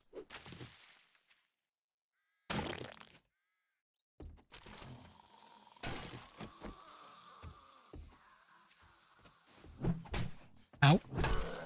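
A single crow-like bird caws harshly several times in 7 Days To Die Alpha 21, with scattered thumps and cracks between the calls and short silent gaps.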